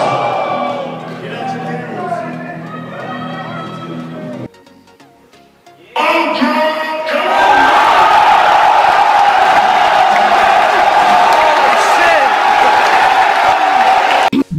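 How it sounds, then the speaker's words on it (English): Loud, sustained crowd roar of cheering and whooping at an E3 video game announcement, swelling in after a brief lull and holding at full volume, with an earlier stretch of talk before it. "Just listen to the pandemonium, listen to the sheer excitement of hearing a brand new release or a brand new announcement"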